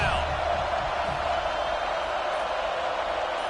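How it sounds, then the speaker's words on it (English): A football stadium crowd roars steadily for the defense on third down, a dense sustained wall of cheering with no breaks that stays loud from start to finish. "Decibels rising as the crowd gets behind this defense on 3rd down."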